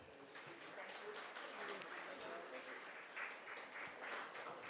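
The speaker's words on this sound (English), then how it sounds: "A huge round of applause, audience." Audience applause at a women chartered accountants' conference, a steady wash of clapping from a seated crowd filling the hall at even loudness throughout, with no break.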